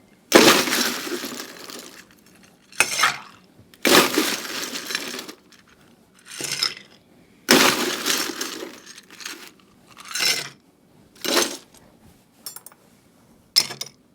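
Ice cubes clatter and rattle into coupe glasses chilling for a 1930 New Brunswick whisky and maple cocktail, coming in several loud, separate bursts of clinking with short quiet gaps between them.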